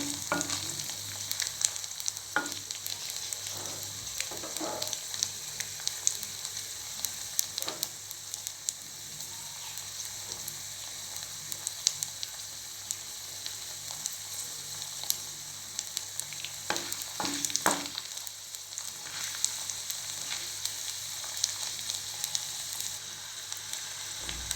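Garlic sautéing in a pan for manathakkali keerai chutney, a continuous bright frying hiss with scattered crackles and a few stirring scrapes, steady and close throughout.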